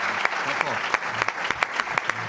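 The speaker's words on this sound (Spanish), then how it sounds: "Un fuerte aplauso para la despedida." A crowd at a Real Zaragoza supporters' forum claps steadily for a farewell, a dense patter of hands with a few sharper claps standing out, with some talking underneath.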